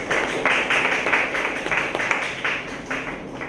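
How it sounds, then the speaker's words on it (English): Indoor audience at a university lecture colloquium applauding to welcome the speaker, a short steady wash of clapping at moderate loudness with no speech. "Let us welcome him with a big round of applause."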